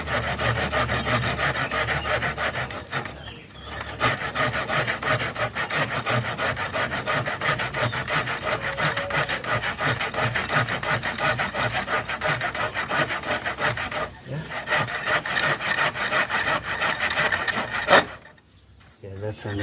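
Handsaw cutting through a piece of wood salvaged with nails in it, a continuous rasping back-and-forth stroke kept up for most of twenty seconds, close and fairly loud, with two brief pauses.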